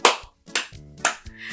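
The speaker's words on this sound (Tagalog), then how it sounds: "Pumalakpak ng 3." Three sharp, separate claps from a group of children, evenly spaced about half a second apart. A short voice sounds between the claps.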